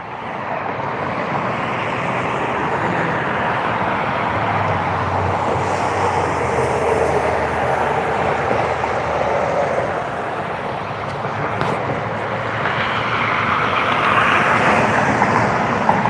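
A Canadian airliner at Cleveland airport gives off a steady, broad jet roar that holds loud and even for the whole stretch, with no voices over it.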